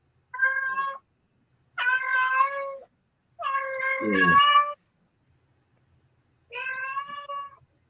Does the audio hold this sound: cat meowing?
yes